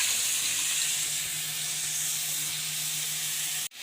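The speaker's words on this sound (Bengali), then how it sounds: "এই যে কড়াইয়ের মধ্যে তেল দিয়ে দিয়েছি, চিংড়ি মাছগুলো দিয়ে দিলাম।" Prawns frying in oil in a wok give a steady, loud hiss and sizzle that runs without a break and ends abruptly.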